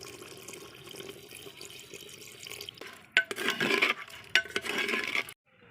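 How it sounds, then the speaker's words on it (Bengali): Hot water pours into mutton korma simmering in a handi, a steady close splashing stream with two louder bursts near the end before it stops abruptly. "আমি একটু জল দিয়ে দেবো, কিন্তু জল দিচ্ছি গরম জল।"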